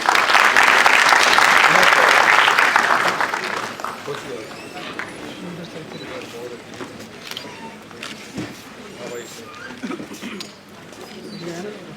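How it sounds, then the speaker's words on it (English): Audience applause at a skill conclave, a loud dense burst of clapping for the first few seconds that fades down into scattered claps and room murmur, with voices talking underneath. "Applause, please."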